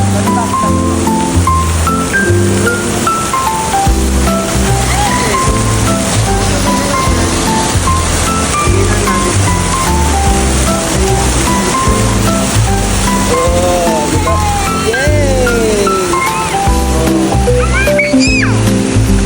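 A waterfall roars in a loud, continuous broadband rush while several people talk and exclaim over it nearby.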